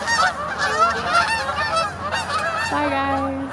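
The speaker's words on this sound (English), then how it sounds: "birds." Geese honking loudly and close, a steady overlapping chorus of nasal calls that runs the whole time, with faint talk in the background.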